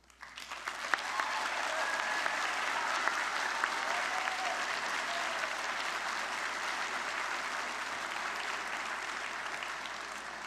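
Audience at a Mohawk College convocation breaks into steady applause that swells within a second and holds as a dense wash of many hands clapping, heard from a distance in a large hall without speech.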